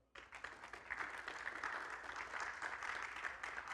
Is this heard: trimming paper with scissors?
no